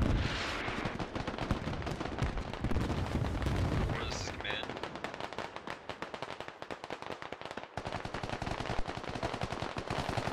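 Gunfire fills a battle in the military video game Squad, with dense rapid automatic bursts and heavy booms crackling nonstop, loud and close, while a voice talks over the fighting.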